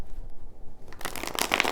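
A deck of tarot cards is shuffled in a short, crisp riffle burst near the microphone, preceded by a quiet moment, with no talking.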